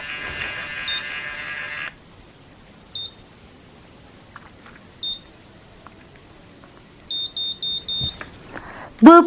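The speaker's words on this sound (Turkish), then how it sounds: "bıp bıp bıp sesini duyduktan sonra makineyi bırakıp saçımızı salıyoruz." A Babyliss Curl Secret automatic hair curler gives single short electronic beeps at intervals, then a quick run of four beeps near the end, sharp and close in a quiet room after a brief whir of the motor.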